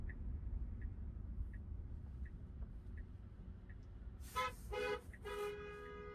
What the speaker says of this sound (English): Some honking going on there.